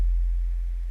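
A steady, deep 43.2 Hz synth tone from Ableton Operator, meant as a cinematic sound, hums alone for about a second at an even, fairly loud level.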